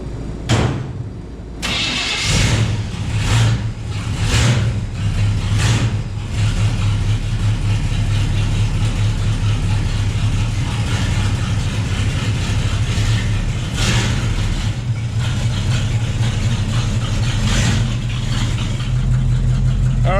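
Engine of a 1935 Dodge rat rod cranks over and catches, then runs with a steady low idle and a few blips of revving, loud and close, no talking.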